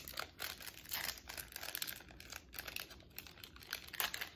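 Cardboard and plastic toy packaging for Hairdorables hairDUDEables Series 1 dolls being torn open along a tear strip, a steady close crinkling and ripping that runs for several seconds in quiet surroundings.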